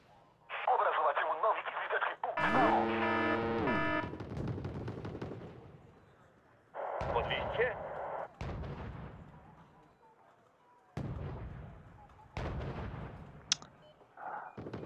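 Artillery shells landing in a Wargame: Red Dragon match, heavy booming impacts and crackling blasts in loud bursts separated by quieter gaps, with radio-like chatter mixed in.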